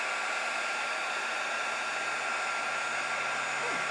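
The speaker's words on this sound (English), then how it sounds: "So, I'm going to again use my heat gun." A heat gun blows steadily, heating embossing powder on a skeleton leaf; a constant, loud airy roar runs unbroken throughout with no talking.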